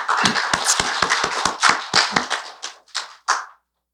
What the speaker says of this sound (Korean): 우리 마음으로 박수로 같이 우리 영접하겠습니다